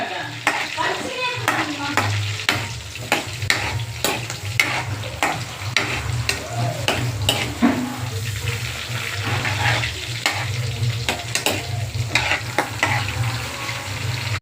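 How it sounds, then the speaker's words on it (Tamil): Onion, dried and green chillies and garlic sautéing in a pan with a continuous sizzle, frequent sharp stirring scrapes and clinks, and some running water in the background, close up and with no speech. "வெங்காயம், காஞ்ச மிளகா, பச்சை மிளகா, பூண்டு இதெல்லாம் போடணும். போட்டு நல்லா வதக்கிக்கோங்க."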